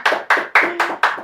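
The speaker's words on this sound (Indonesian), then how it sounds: "Tepuk tangan semangat kita ya." Five sharp, evenly spaced hand claps ring out close and loud, each a crisp burst with a short decay, setting a steady rhythmic beat.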